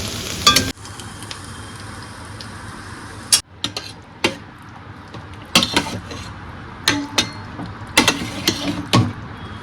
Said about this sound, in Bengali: ভাজা হয়ে গেছে কড়াইয়ের থেকে একদম ছেড়ে ছেড়ে পড়ছে আর দেখো গা থেকে তেলও বেরাচ্ছে